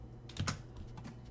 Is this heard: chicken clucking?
no